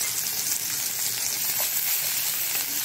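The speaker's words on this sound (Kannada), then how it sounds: "ಫ್ರೈ ಮಾಡಿಕೊಳ್ತೇನೆ" Garlic and onion sizzling in a few spoonfuls of hot oil for a Mangalorean sambar, a steady bright crackling hiss held close and constant throughout.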